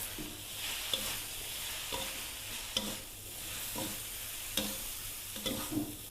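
Mee sua noodles with pork and carrot being stir-fried in a pan with two spatulas, a steady sizzle broken by repeated scraping, clanking strokes at a close, even pace.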